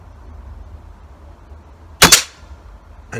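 A shot strikes the head of a strike-anywhere match and makes it pop: one sharp, loud crack with a brief ringing tail after quiet background, then the onset of another sharp sound at the very end.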